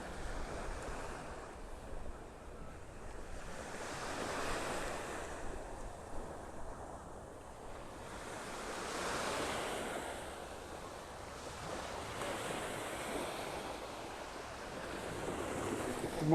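Surf rolls in steadily on a beach in North Naples, Florida, with waves swelling and breaking every few seconds under a constant rush of wind buffeting the microphone; no voices.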